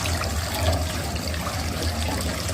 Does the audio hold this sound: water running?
yes